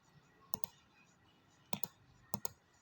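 A computer mouse clicks while someone works in Corel Draw: three quick double-clicks spaced out at irregular gaps, crisp and close against a quiet room.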